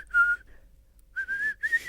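A person whistles a short tune with breath drawn inward, a clear pure tone in three brief phrases separated by a pause, close and alone.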